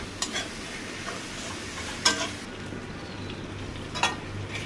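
A steady low sizzle of onion, chilli, garlic, turmeric and salt frying in oil, punctuated by three distinct clacking stirs of a spoon against the pan, spaced about two seconds apart; no one speaks.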